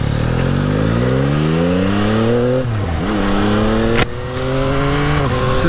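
A Yamaha motorcycle rides past the camera, its engine note rising loudly, dipping and shifting as it goes by, then revving up again close by.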